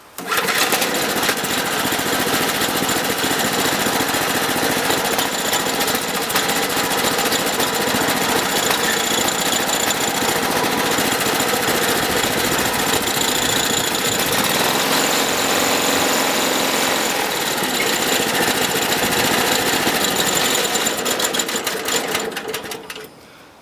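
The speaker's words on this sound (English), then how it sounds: "cold engine has not been started in a week or so, and fires right up with one pull" The cold gasoline engine of a Wood-Mizer LT10 sawmill catches on one pull and runs steadily at a loud, buzzing high idle, then cuts off abruptly at the end.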